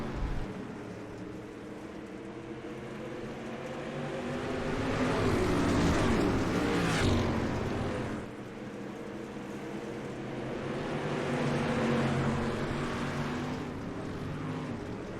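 Dirt track street stock cars race for the lead, engines droning and swelling as the pack passes, with a louder roar mid-way and a second rise later, heard from trackside.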